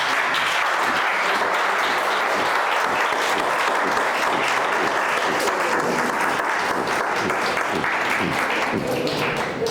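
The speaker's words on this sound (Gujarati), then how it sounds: "એકવાર જોરદાર તાળીઓથી આપણે બહુ કર્યું" Sustained, loud audience applause fills a homeopathy training session hall, dense and steady clapping throughout with no break and no talk over it.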